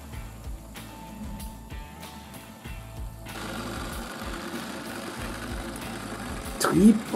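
A 45-year-old Piko BR86 analog model locomotive from 1978 runs with a rhythmic mechanical whirr and clicking. A voice talks over the first half, and the sound swells louder near the end.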